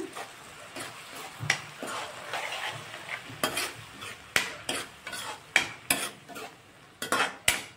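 Gobi manchurian stirred with soy sauce in a pan: a soft simmering sizzle broken by repeated sharp scrapes and clinks of a utensil against the pan, irregular at first and then more regular, close up, with no talking.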